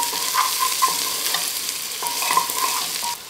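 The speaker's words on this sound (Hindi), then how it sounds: "अब इसके अंदर हम डालेंगे अपना चॉप अदरक, चॉप लहसुन और चॉप हरी मिर्च। ये डाल के इसे फ्राई करेंगे।" Chopped ginger, garlic and green chili sizzle steadily in hot oil for a mutton stew, with the spoon stirring through the pan in a continuous close frying hiss and no voices.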